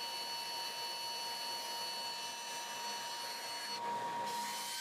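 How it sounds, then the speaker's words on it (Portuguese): A belt sander runs steadily on a round wooden piece in a woodworking shop, shaping part of a simple wooden bucket. It gives a continuous close abrasive whir with a slight change near the end, and no one speaks. "ela foi para a lixadeira de cinta, onde pude começar a dar forma a ela"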